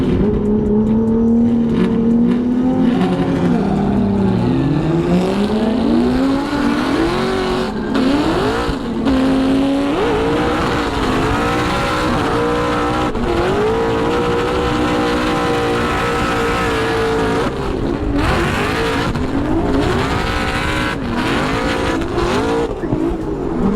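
BMW E36 drift car at a Formula Drift event in Seattle, engine loud and continuous with rising and falling revs, clutch-kick surges and tire squeal running through the whole stretch.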